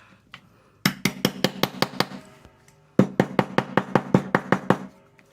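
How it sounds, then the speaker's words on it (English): A hammer strikes while a homemade sketchbook is made from a placemat and packing paper, two quick runs of about nine sharp, evenly spaced close knocks separated by a brief pause. "Hammer."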